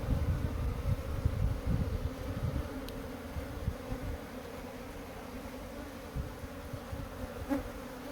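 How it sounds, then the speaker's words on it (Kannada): Honeybees being moved into a hive box hum in a dense, continuous buzz, close and steady, with low rumbling handling noise underneath and no talk. "ಪೆಟ್ಟಿಗೆಗೆ ತನ್ನಷ್ಟಕ್ಕೆ ತಾನು ಜೇನೆಲ್ಲ ಜೇನು ಹುಳ ಎಲ್ಲ ಬರ್ತವೆ ನೋಡಿ"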